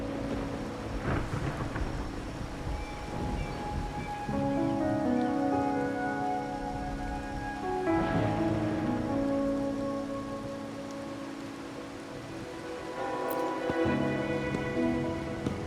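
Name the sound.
rain and thunder in video game Wuthering Waves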